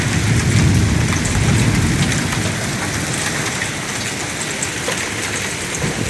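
Heavy summer rain pours during a Minneapolis thunderstorm with hail, a dense loud wash of drops hammering surfaces on a balcony, with low rumbling underneath that eases slightly after the first couple of seconds.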